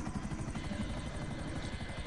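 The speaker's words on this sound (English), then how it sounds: "A new helicopter." A helicopter in the GTA Online video game makes a steady, rapid rotor chop with a dense mechanical thrum throughout, fairly quiet and without talk.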